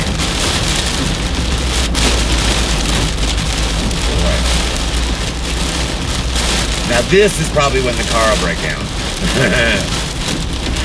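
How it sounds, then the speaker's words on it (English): Steady rain drums on a car driving through wet weather, a dense constant wash of droplets with low road rumble, while someone talks over it now and then. "I actually like driving in the rain."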